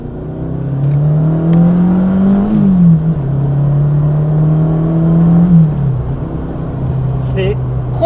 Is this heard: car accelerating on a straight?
yes